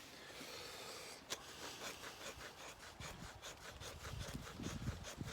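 Knife spine scraping a ferrocerium rod on a TBS Boar knife to raise fine shavings, a run of short close rasping strokes in quick succession, fairly quiet with no talk.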